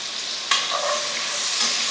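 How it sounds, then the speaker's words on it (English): Red onions, sage and rosemary hitting a hot pan for a mushroom pasta, a loud continuous hiss that surges with a quick clatter as they go in, then settles into a steady sizzle. "we're going to go ahead and add our red onions and our sage and rosemary"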